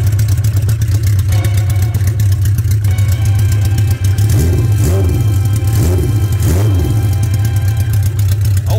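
A 1976 Honda CB550 motorcycle engine runs with the choke on, a loud, steady mechanical drone with a few swells of revving midway, heard up close with no talk.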